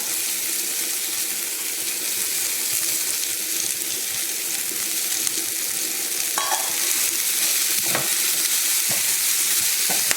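Fenugreek leaves sizzle steadily in a pan while a utensil stirs and scrapes, with a few sharp clinks near the end.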